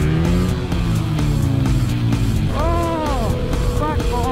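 A Kawasaki Z900 RS motorcycle exhaust roars loud and close as the engine revs and drops, with sharp backfire pops crackling through the engine note.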